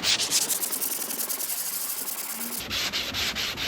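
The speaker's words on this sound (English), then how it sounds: "just keep consistently sanding all over it" Sandpaper wrapped on a hand block rubs steadily across a car panel in quick, even back-and-forth strokes, a close gritty scratching with no talking.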